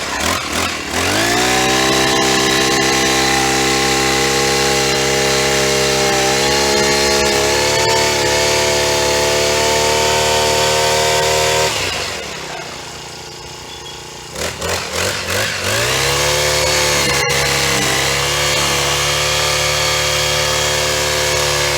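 A four-stroke brush cutter with a bull-horn handle runs loudly and close, a steady engine drone with rev changes, dropping briefly to a lower idle around the middle before revving back up.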